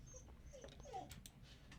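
A small dog whimpers softly indoors, a few faint high whining cries spaced over a quiet background.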